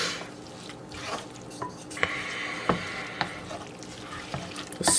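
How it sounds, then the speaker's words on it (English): A spoon stirs ancho chili sauce mixed with reserved meat cooking liquid in a pan, giving soft wet scraping and sloshing with a few sharp clicks against the pan and a gentle sizzle underneath. "I've used 2/3 cup of the liquid reserved from cooking the meat, and I'm going to stir this in"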